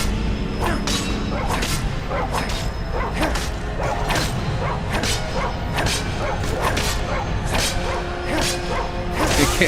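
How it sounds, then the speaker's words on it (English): Dog barking in the video game Skyrim, a steady run of repeated barks and yips over a dense background of game music and effects, loud and continuous throughout. "He can't handle the barking."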